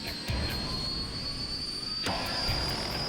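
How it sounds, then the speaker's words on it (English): Helicopter hovering during a full-scale blade-balance test, a steady close rotor and engine whine with a high tonal hum, with one brief broadband thump in the middle. "lifts the chopper into a hover, then spins her round"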